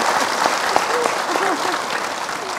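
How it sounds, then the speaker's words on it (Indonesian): Applause from the audience at a televised Indonesian religious program, steady clapping mixed with crowd noise while voices chatter and call out over it. "Tepuk tangan dulu."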